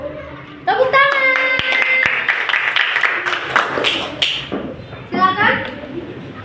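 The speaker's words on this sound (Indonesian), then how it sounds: "Tepuk tangan." Schoolchildren in an Indonesian classroom clap together in a loud, close burst lasting a few seconds, with children's voices chattering over and after the clapping.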